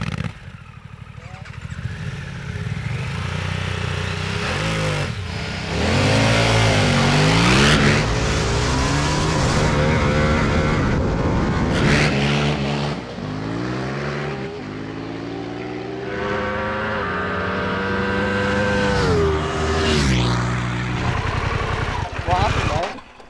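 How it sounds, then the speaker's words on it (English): A Ducati and a Harley-Davidson heavyweight adventure motorcycle drag racing on a wet track, engines revving hard with rising and falling pitch sweeps as the wheels spin, loud and close throughout, with a voice talking over them. "let's go and get on the Ducati and the Harley, and I'm going to see if I can do some more quarter mile wheel spins"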